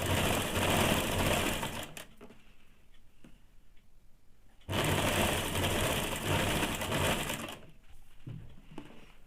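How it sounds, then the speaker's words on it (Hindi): A sewing machine stitches along a blouse sleeve border in two loud, steady whirring runs split by a quieter pause, with faint ticks in the gap. "इस प्रकार से मशीन चला लेंगे।"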